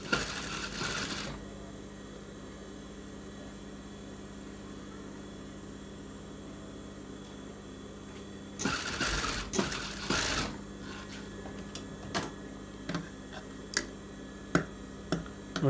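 A sewing machine stitches piping onto a blouse in short bursts, with a longer run near the start and another in the middle, then scattered clicks and taps from handling the fabric.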